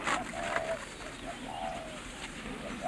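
A pigeon or dove coos softly several times, low rounded calls heard at a middle distance over a steady outdoor background hiss.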